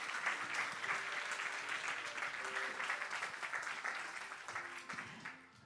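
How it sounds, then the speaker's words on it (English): Sustained applause from an audience at the official opening of the Melting Ice Sinking Cities exhibition, dense and even clapping that holds for several seconds before easing off, heard from a moderate distance. "Another round of applause for Dr."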